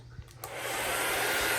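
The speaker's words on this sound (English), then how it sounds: "I'm gonna use my hair dryer. See if I can do it on low first." A hair dryer on its low setting dries paint on a flip cup. After a couple of brief knocks it switches on and settles into a close, steady whooshing hum.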